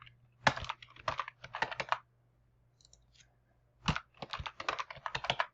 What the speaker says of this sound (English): And then I can put in a root password.